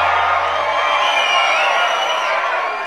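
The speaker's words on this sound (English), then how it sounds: "Listen to that video crowd." Loud, steady cheering from a video game crowd in Guitar Hero, a dense wash of whoops and shouts held at an even level with no clear talk.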